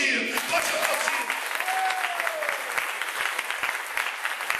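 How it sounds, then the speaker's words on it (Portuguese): Church congregation breaking into applause during a sermon, a dense, lively clatter of many hands with a voice calling out over it, sustained for several seconds. "Pode aplaudir."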